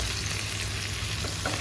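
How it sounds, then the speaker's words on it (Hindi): Ginger garlic paste fries in a pan with a dense, even sizzle that holds steady throughout, close and fairly loud, with no talking. "जिंजर गार्लिक पेस्ट को अच्छे से फ्राई कर लेंगे"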